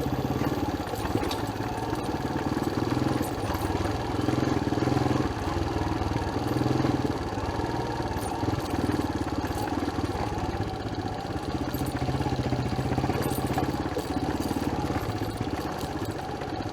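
Motorcycle engines putter and clatter continuously at close range on a rural road between Ciambar and Nagrak, a steady mid-pitched rumble with small bumps and rattles from the road.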